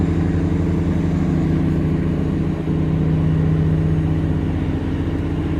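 A deep, heavy tugboat engine drones continuously at a steady, labouring pitch while towing a heavy barge on the Chao Phraya River, loud and close, with no pauses throughout.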